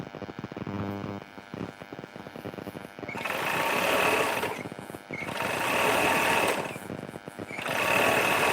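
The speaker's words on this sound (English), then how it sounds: "Does this mic make the sewing loud?" A sewing machine stitching while hats are being worked on, its close, loud whirring motor running in three sustained bursts separated by short pauses with softer clicking and handling sounds.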